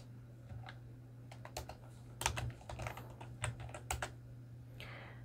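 Typing on a computer keyboard into a web browser, quiet close key clicks in short uneven bursts over a low steady hum.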